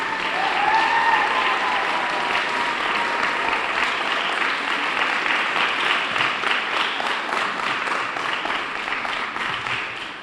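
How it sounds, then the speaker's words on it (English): Sustained audience applause at an evening spring art show, a dense, steady wash of many hands clapping that carries on for the full length and only slightly thins toward the end, with no talking over it. "could you please give her applause and thank her for coming tonight?"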